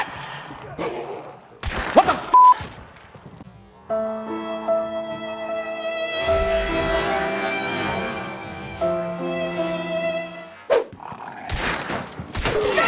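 Gunfire in Hunt: Showdown, a few loud sharp shots at the start and end, with sustained tonal in-game sound between them and brief voices in the background.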